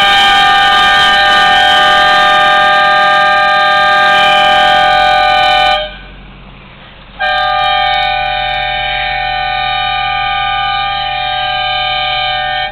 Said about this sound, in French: Combien de temps tu stationnes, que tu klaxonnes, Pat?